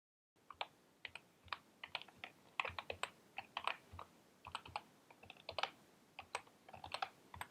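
Quick, irregular clicking of keys as a command is typed on a computer keyboard, crisp nearby taps in short bursts with small pauses, quiet and without speech.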